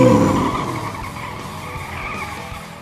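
Race cars pull away and skid on a track, a loud tire squeal up front that fades into a steadier engine and tire roar over a few seconds.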